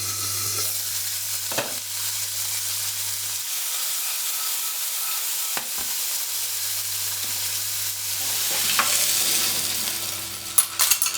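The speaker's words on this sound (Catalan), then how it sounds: "posarem a fregir les rossellones i també les taparem fins que estiguin obertes" Mussels frying in a little oil in a covered pan give a steady sizzle and hiss, with a few stirring clinks and a low hum that drops out for a stretch before returning.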